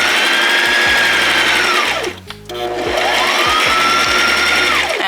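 A sewing machine stitches across puff quilt fabric in a loud, close whirring run that speeds up and then slows. There is a short pause partway through, and then the machine revs up again.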